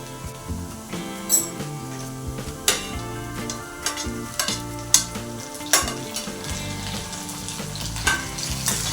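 Tomatoes are sautéed in a pan for sambar, a steady sizzle broken by repeated sharp spoon scrapes and clinks as they are stirred, close and moderately loud, with background music underneath.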